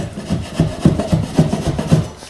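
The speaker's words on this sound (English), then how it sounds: "So let me give it a shot down here with my scraper and see." A scraper rasps rhythmically against a bathroom wall, peeling off wallpaper in quick repeated strokes, close and fairly loud with no talking.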